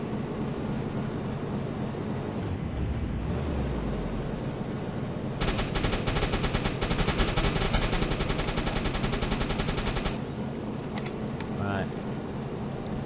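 A U-boat's deck gun fires at an enemy aircraft in a naval combat game, a fast rattling burst of shots for several seconds over a low drone of the boat's engines, with voices talking in the background.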